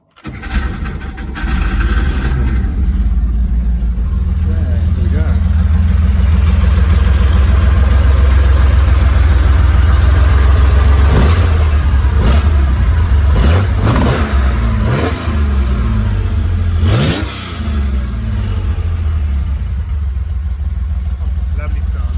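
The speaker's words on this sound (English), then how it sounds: "Let's start her up, shall we? Have a little listen. She should start okay." A 1969 Porsche 911 weekend racer cranks and fires, then settles into a loud, rough idle with several sharp revs blipping up and falling back, close by, with a voice speaking over it.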